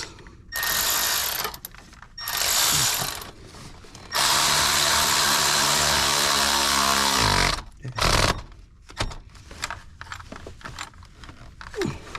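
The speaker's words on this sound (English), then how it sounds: "we can use still our Milwaukee cordless" Milwaukee cordless ratchet spinning out a spark plug on a 2008 Subaru Forester, several whirring bursts close up, one long run with a descending whine as it winds down, then clicks and handling noises.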